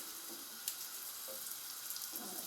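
Pieces of rabbit dredged in flour fry in a pan over medium heat, giving a soft, continuous sizzle with small crackles and a faint tap of a piece going in.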